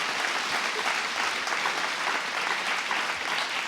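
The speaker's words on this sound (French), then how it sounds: "Je crois qu'on peut l'applaudir." A conference audience applauds a speaker at an opening plenary on mission-driven companies, with continuous broad clapping held at an even level throughout and no talk above it.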